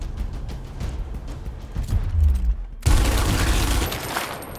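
Sustained volleys of gunfire from the Gears Tactics battle, dense and rattling, with a deep boom midway and a loud fresh burst of shooting after a brief drop.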